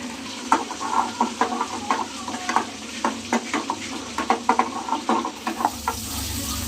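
Dried turkey berries (sundakkai vathal) frying in a pan for Nellai-style tamarind kuzhambu, an even sizzle under brisk, rhythmic spoon stirs and scrapes against the pan.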